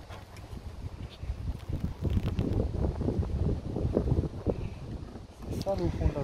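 Gusty wind buffets the microphone outdoors at a beehive on a cloudy day, a steady low rumble that surges and fades. A man mutters under it.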